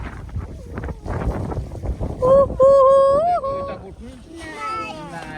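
Strong winter wind blows over a snowy roof, buffeting the microphone with loud rushing gusts and whistling tones while someone talks and exclaims under it.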